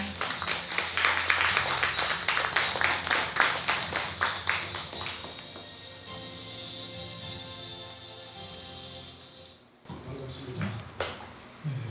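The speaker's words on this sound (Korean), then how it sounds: "뜨거운 박수 부탁드립니다" Audience applause at a Buddhist book publication ceremony, a dense burst of many hands clapping for about five seconds that fades into quieter room sound and murmuring.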